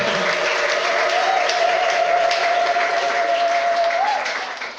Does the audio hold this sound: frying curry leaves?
no